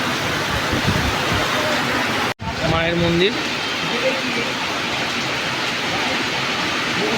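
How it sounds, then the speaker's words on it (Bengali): Heavy rain pours over a temple fair ground lined with stalls on the eve of the Bishohari mela, a dense, steady hiss filling the whole clip while a voice speaks briefly. "খুব বৃষ্টি পড়ছে এই যে ঘোরো ঘোরো বৃষ্টি দেখুন"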